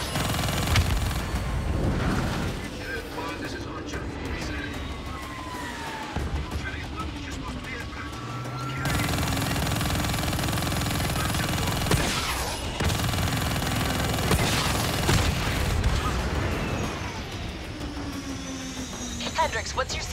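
Sustained, dense gunfire and battle noise from Call of Duty: Black Ops III fill the whole stretch: loud continuous bursts with rumbling mechanical roar and shifting whines, no clear pauses.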